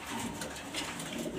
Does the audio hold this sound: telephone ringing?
no